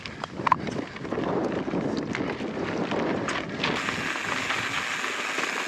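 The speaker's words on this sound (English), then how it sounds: "As I say, it's blowing like a hurricane." Strong, gusty hurricane-force wind buffets the microphone of a cyclist riding uphill into the wind on a mountain bike trail, giving a steady loud roar with rumbling low gusts throughout.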